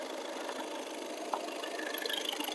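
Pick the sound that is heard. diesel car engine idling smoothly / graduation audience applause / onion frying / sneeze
diesel car engine idling smoothly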